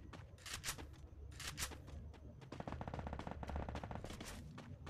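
Rapid automatic gunfire from the Free Fire battle royale game, dense bursts of shots rattling continuously for the whole stretch, loud and close with a brief lull before firing resumes.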